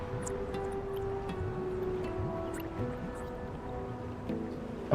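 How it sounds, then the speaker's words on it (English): A persistent bubbling of liquid in the video game Wuthering Waves, thought to come from poison, runs steadily beneath layered tonal game music with no speech. "A bubbling sound needs to go away."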